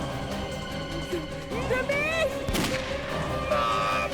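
A single sharp gunshot fired at a cable in a TV drama cracks out midway, set against swelling dramatic music and whistling sound effects.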